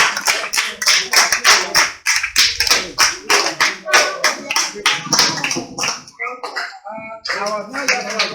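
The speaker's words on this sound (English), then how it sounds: "students, can you clap for your teachers?" Students at a newly opened school in Liberia clap loudly and steadily in a rapid rhythmic burst that fades toward the end, mixed with a few children's voices.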